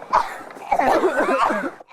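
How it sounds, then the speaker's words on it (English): A short burst of harsh, throaty coughing, close and loud, in a couple of rough bouts. "what's all the real coughing for?"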